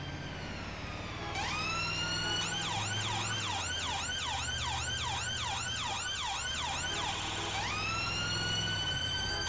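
An ambulance siren wails loud and close in a rapid, repeating up-down cycle, starting after a low rumble, settling into a steady rising-falling pattern and shifting near the end, with no talk over it.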